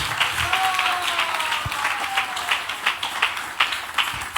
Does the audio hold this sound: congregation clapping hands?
yes